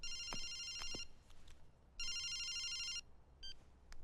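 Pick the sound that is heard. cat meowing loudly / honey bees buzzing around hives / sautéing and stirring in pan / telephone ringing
telephone ringing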